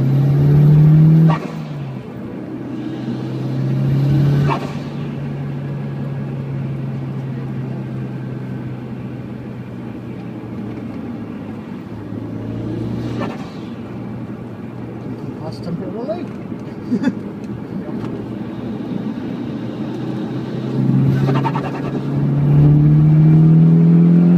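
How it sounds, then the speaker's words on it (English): A car engine idles and runs steadily all the way through, a low continuous drone with a few brief surges, while people talk over it. "But the car's been running all through."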